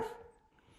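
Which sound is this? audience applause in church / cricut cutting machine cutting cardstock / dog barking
dog barking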